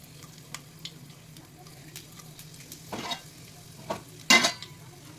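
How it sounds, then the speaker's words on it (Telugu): Dried red chillies dropped into hot tempering oil, a faint continuous sizzle under a low hum, with a few sharp crackling bursts and stirring scrapes near the end. "దీనికి తిరగమాత నూనె కాగిందండి. ఎండుమిరపకాయలు వేస్తున్నాం."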